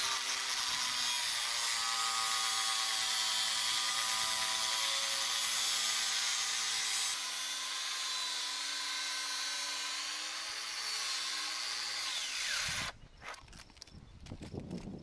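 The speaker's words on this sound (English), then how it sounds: "what we're doing today, cutting off the excess liner" A power tool saws steadily through excess metal chimney liner, a loud continuous whine with shifting pitch that runs for about thirteen seconds, then cuts off into clattering handling noise.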